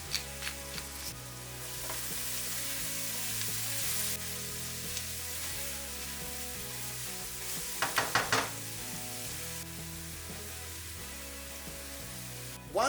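Onions, carrots and celery with salt and black pepper fry in a pan for braised pork spare ribs, a continuous close sizzle broken by a brief cluster of utensil clicks and a final clank.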